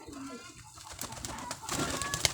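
Pet pigeons coo softly against a noisy outdoor background. A faint murmuring voice sits in the mix, and the calls grow a little louder toward the end.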